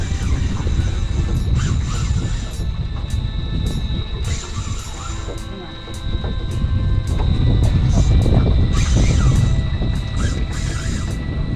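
A fishing reel screams as line peels off while a fish runs after hitting live bait at dusk near Gladstone, Australia: a sustained whine with rapid, regular drag clicks over rough outdoor rumble.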